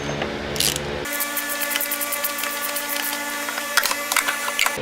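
Wrench working loose the oil filter canister cap, sealed with an O-ring, on a 2006 Volvo S40: quick metallic clicks and scraping in short bursts over a steady hum, close and fairly quiet.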